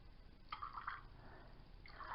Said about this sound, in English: I'm just going to guesstimate by pouring it in